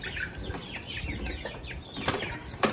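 Farm chickens being herded back into their shelter at night: soft clucks and flapping wings close by, with a couple of sharper bursts of movement toward the end.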